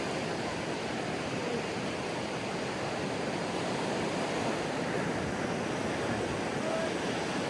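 Sea waves at Bhatye Beach in Ratnagiri on the Konkan coast, a steady broad surf roar filling the whole stretch without clear breaks, with a faint wind rush.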